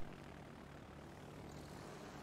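Carrier aircraft in the naval video game World of Warships Legends drone steadily, a faint continuous propeller engine hum with no talking.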